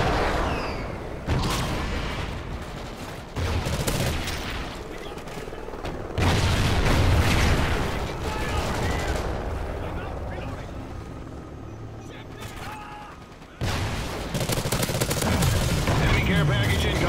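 Gunfire and explosions from a Call of Duty: Ghosts multiplayer match roar in loud bursts with rumbling booms and aircraft noise, while game voice announcements and talk are heard over them.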